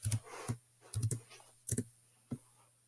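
Several sharp, close clicks from a computer mouse or keys come in quick irregular pairs and singles against a quiet background with a faint hum, and no one talks.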